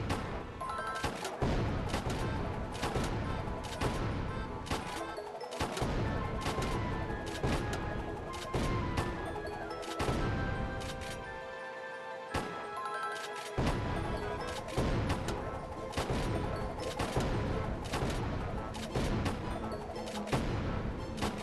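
Rapid bursts of gunfire at a target range in the video game Guardian Tales, dense overlapping shots going on almost without pause, with brief lulls, over a steady game backdrop and no talk.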